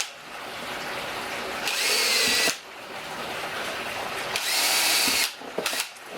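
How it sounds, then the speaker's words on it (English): A power drill with a hole saw on a mandrel whirs in two bursts, drilling pilot holes for a beehive inner cover, revving up high and steady, then stopping, with quieter motor hum in between. "chuck it up, and pre-drill your holes"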